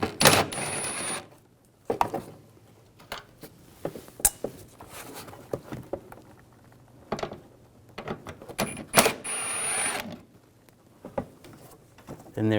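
An 8 mm socket wrench removing two screws under the front bumper of a 2006–2010 BMW 550i, giving irregular ratcheting clicks and metallic taps with brief pauses, close and moderately loud.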